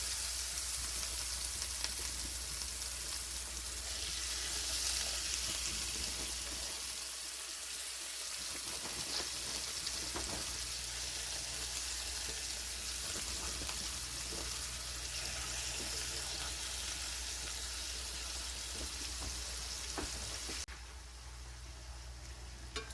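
Lemon garlic chicken pieces sizzle and fry steadily in a crowded skillet, a constant hissing crackle that continues close and unbroken, with the pan noise dropping slightly near the end.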